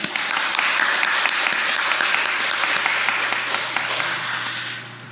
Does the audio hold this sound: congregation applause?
yes